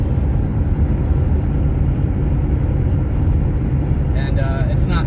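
A 1990s Subaru Impreza cruising in fourth and shifting into fifth, its loud steady engine and road drone filling the cabin while people talk faintly over it, with a brief higher whine near the end.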